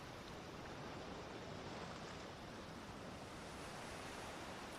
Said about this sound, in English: Mighty waves crashing over us